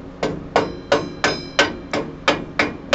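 A hammer taps a motorcycle wheel axle, a Harley Dyna, through a rag draped over its head: eight evenly spaced, sharp, close knocks at a steady rhythm with nothing else heard.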